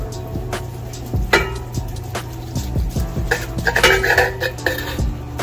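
A knife cutting into a cooked apple pork loin on a board, heard as a series of close, sharp clinks and scrapes of metal against plate and board with irregular taps, no talking.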